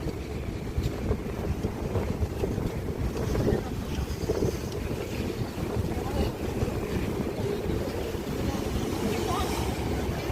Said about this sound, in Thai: อันนี้เรือรอบแรกเนาะเขากลับแล้วล่ะ